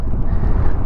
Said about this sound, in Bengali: পুরো হাওয়া দিচ্ছে, ফুরফুর করে হাওয়া হচ্ছে।